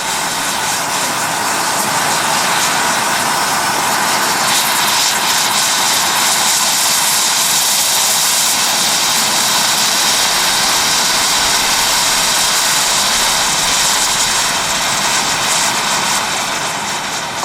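A steady, loud roar of rushing flame from a gas torch burning against a bicycle lock fills the whole stretch, a broad hissing blast like a rocket engine that never lets up.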